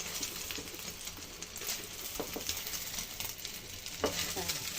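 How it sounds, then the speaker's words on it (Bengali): Egg frying in a pan, giving a dense, continuous hiss and crackle with light spatula scrapes mixed in, close and steady throughout. "ডিমটা ভাজি করতেছি, ডিমটাকে ভাজ করে নিচ্ছি।"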